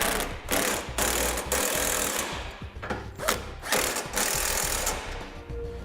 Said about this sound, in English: using a 3/4 inch socket and wrench to hold the nut, I'm gonna snug up the 1/2 inch hardware